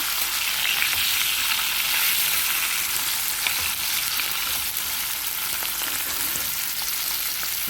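Ivy gourd pieces frying in oil in a kadai, a steady dense hiss of sizzling with faint stirring clicks, continuous and close.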